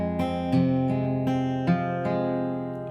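Fingerstyle acoustic guitar pattern played without the ring finger, a few clear plucked notes and chords ringing close and alone in a steady rhythm.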